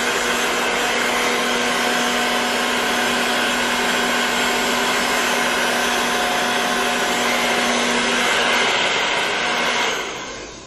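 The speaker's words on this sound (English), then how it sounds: "do a little blow dry" A hair dryer blows steadily on long hair, a loud, continuous whirring drone with a fixed hum that holds for about ten seconds, then cuts off abruptly near the end.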